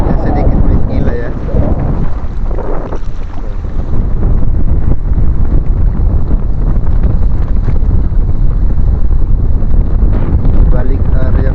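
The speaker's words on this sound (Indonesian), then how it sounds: "Ombaknya sedikit gila ya." Strong gusts of wind buffet the microphone on Lake Toba in extreme weather, with rough waves crashing and churning water in a loud, continuous roar throughout.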